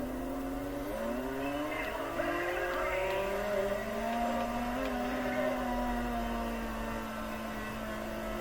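Dirt-track race cars roar through a World of Outlaws '23 video game race, a steady droning engine whine with rising and falling pitch holding throughout, no voices over it.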